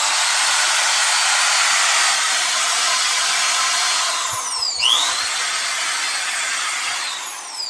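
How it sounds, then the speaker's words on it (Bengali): An electric drill powered by a 5000W pure sine wave inverter whines at a high, steady pitch, dips briefly as it slows and revs back up, loud and close. "ড্রিল মেশিনটা আপনি একটু চালিয়ে দেখাই"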